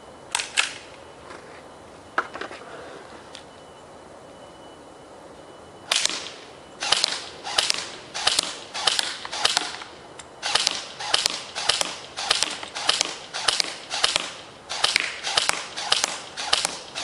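A King Arms M4A1 ultra grade airsoft gun fires outdoors with its iron sights, a few scattered sharp snaps at first, then a long series of rapid, evenly spaced cracks, crisp and near.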